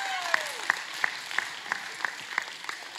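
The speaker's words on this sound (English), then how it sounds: "Let's give Lockie a big round of applause" Applause for a child in a church service rises as a crowd claps in a steady rhythm for a few seconds, moderately loud and heard at a slight distance, with a voice briefly heard at the start.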